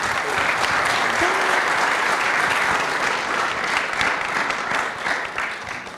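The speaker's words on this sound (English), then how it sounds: "Can we give a round of applause?" Sustained audience applause for conference panellists, a dense, even clatter of many hands that holds steady at full strength for several seconds before easing slightly near the end.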